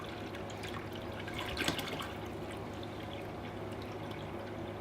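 Distilled water from a grocery-store jug being poured into an Aerogarden Bounty Elite: a quiet, continuous trickling pour with a slight splash in the middle, heard alone and fairly close.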